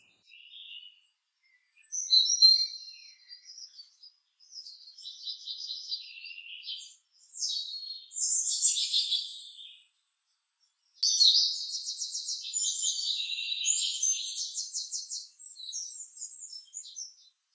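Birds call in an urban forest in Kalamassery, Kochi, with bright, repeated chirps and trills in bursts separated by brief pauses, fairly close and alone.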